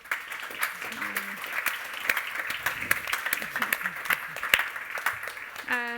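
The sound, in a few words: audience applause for a conference panel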